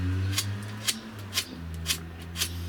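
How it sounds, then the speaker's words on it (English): 600-grit sandpaper rubs on a fret of a Teisco guitar in short downward strokes, five crisp scratchy swipes at an even pace, close and fairly quiet, without speech. "I take a little bit of sandpaper. This is, I think, 600 grit, and I simply work downwards"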